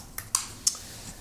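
Keys tapped on a computer keyboard while entering a search, three or four sharp, close clicks spaced irregularly over a quiet room background.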